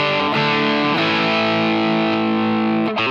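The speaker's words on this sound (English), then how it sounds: "The initial distortion you'll see on the initial patch is this one." A heavily distorted electric guitar rings through the distortion patch of the Yonac ToneStack Pro amp app: loud, saturated sustained chords with rich harmonics and a couple of brief changes in attack, no voices.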